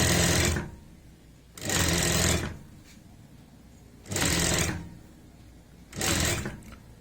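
Sewing machine stitching a tight neckline strip for a deep neck onto a garment at the shoulder, with a one-foot margin; four separate loud running bursts, each a second or less, with quiet pauses between them and no talk.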